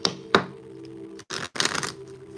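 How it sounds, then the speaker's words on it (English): Tarot cards being shuffled, with a run of quick papery riffles and taps, a short pause, then a denser burst of shuffling close to the mic. "So let's shuffle."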